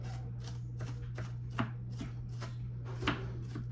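A knife finely chopping onion on a board while making pico de gallo, giving about eight quick, evenly spaced close taps with a steady low hum behind them.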